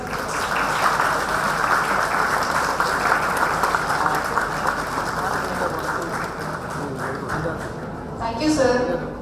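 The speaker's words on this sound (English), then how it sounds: "Please, we can have a huge round of applause." Sustained audience applause at the inauguration of a 5G innovation center, a dense steady crowd clapping for several seconds that thins out near the end as a voice speaks.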